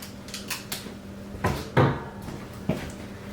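A tabbed plastic cinnamon container being opened in a home kitchen while baking, producing a few close, sharp plastic clicks and snaps with short pauses between them, and no talking.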